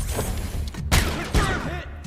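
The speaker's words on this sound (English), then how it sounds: "Grenade out!" A grenade blast in the shooter RoboCop: Rogue City, a heavy boom with a second burst close behind over dense game noise, loud and near within about two seconds.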